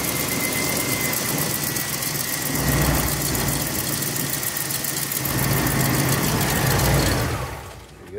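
A 1979 Oldsmobile Delta 88 two-door with a new battery and leaking fuel lines idles close by in a steady, even rumble that swells slightly before fading near the end.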